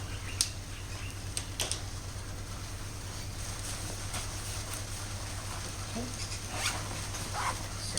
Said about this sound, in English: You zip that up.